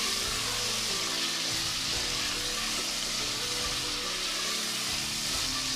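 Chicken frying in a pan with garlic and ginger for achari chicken, a loud, steady, crackling sizzle that continues evenly throughout with no talking.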